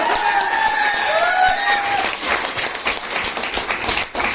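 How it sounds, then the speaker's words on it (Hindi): Applause from an audience at an AWPL event in Bhopal, a dense wash of clapping with some crowd noise, while tonal whistling or feedback sweeps through the first two seconds before the clapping carries on alone. "मैं जोरदार तालियां उनके लिए होनी चाहिए।"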